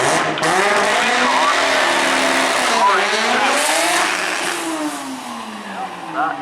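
A rotary-engine race car at a drag race on a track, a loud high-pitched engine screaming and rising in pitch as it accelerates, then falling away, with people talking over it.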